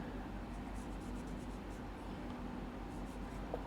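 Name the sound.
writing on a board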